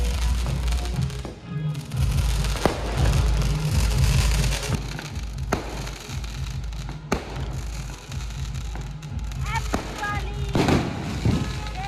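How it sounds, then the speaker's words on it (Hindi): Firecrackers bursting in a noisy outdoor celebration in a city in India, with sharp cracks and pops scattered throughout over a dense crackling background and voices. "पटाखा फूटा थे एकदम दिवाली टाइप लगे"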